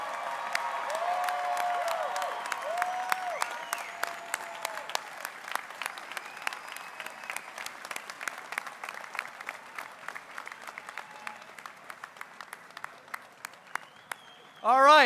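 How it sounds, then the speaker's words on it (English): Sustained applause from a high school graduation crowd for the class of 2022, dense clapping at first that gradually thins toward the end, with some voices mixed in. "Let's give one more round of applause for our class of 2022"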